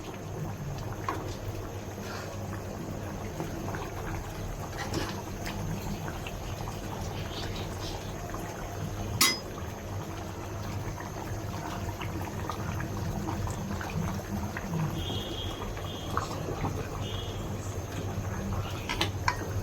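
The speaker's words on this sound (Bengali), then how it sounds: "নেহারি খলবলিয়ে ফুটছে এখন" Beef nihari bubbling steadily in a pot, a continuous low simmering burble with occasional pops and one sharp clink, heard alone without talk.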